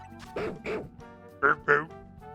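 A shiny Furfrou from a Pokémon video game cries in two pairs of short, yappy, dog-like barks over faint game background sounds.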